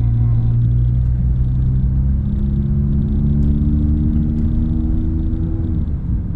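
Engine of a Honda Jazz RS with a double Blackcore exhaust, pulling hard under acceleration in D, a steady loud low drone with rising tones, heard from inside the car.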